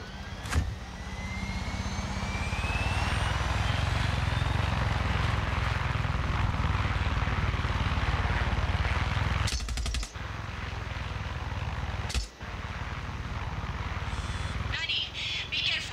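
A helicopter engine roars steadily in the Far Cry 6 video game, a loud, continuous rumbling drone with rising whine and a few sharp bursts of gunfire breaking through.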